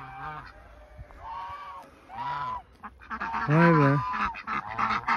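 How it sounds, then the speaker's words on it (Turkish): Chinese geese at a farm give several loud, close, nasal honks that rise toward the end, while a brief voice speaks in the background. "Ha, Çin kazları."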